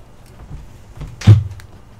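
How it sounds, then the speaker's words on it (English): An interior door bangs with one loud, heavy thump in the middle, with softer knocks and low rumbling before and after it. "This door is really noisy."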